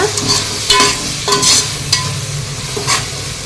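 Onions with turmeric, garam masala and chili powder sauté in oil for biryani gravy, a loud close sizzle broken by several sharp spatula scrapes and clinks against the pan.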